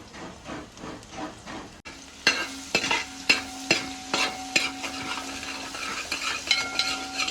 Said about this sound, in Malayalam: ഇതേ എണ്ണയിലേക്ക് നമുക്ക് കുറച്ച് ഇഞ്ചി, വെളുത്തുള്ളി, പച്ചമുളക്,